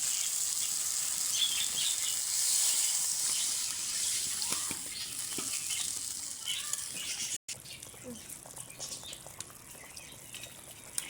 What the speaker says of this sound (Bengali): এবার জল দিয়ে দেবেন।